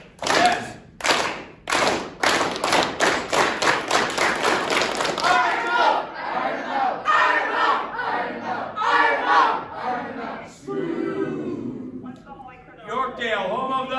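A school audience of grade 5 to 8 students shouts loudly in unison, with rhythmic clapping or stomping at first, then a sustained roaring crowd yell that rises and falls.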